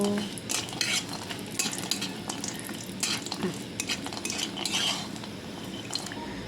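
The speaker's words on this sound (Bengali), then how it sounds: "বড়িগুলো অল্প লাল লাল করে ভেজে" Lentil dumplings (bori) fry in oil in a wok, a soft steady sizzle broken by frequent clinking scrapes of a metal spatula stirring against the pan, close and without talk.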